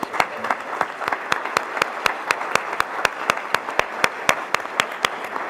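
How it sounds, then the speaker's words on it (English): An audience at a school board meeting applauds the students and staff being honored, with crisp close claps in a steady rhythm over a continuous wash of applause across the room. "let's give a big round of applause for everybody that we're about to recognize"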